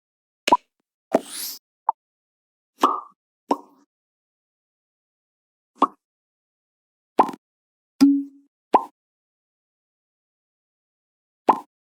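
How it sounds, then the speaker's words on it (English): Short, bright pop sound effects for a UI bounce animation, about nine separate plops spaced irregularly across the stretch, each crisp and close with silence between. "we need to look for a pop sound effect"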